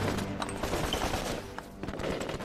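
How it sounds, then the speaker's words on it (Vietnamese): Machine-gun fire crackles through a battle scene in an anti-Japanese war action film, rapid overlapping bursts at moderate distance with a brief lull before the shooting resumes, no speech. "Tôi dùng súng máy yểm hộ mọi người, tấn công giặc Nhật."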